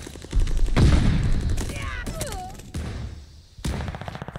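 Bursts of gunfire from Call of Duty: Vanguard, loud and close, with rapid shots followed by scattered single cracks and a later volley, under a voice talking.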